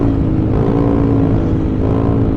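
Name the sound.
loud motorcycle exhaust while riding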